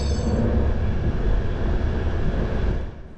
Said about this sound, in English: Now the train has quietened down a lot